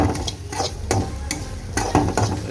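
Grated coconut frying in about two tablespoons of hot oil for a sweet filling, stirred with a utensil in repeated scraping strokes over a steady close sizzle.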